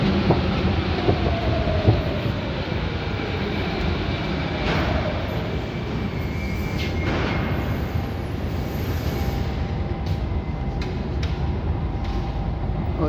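An underground Paris metro train rumbles through a station, a heavy, steady roar of wheels and motors with some squeaks and clicks and a rising whine near the start.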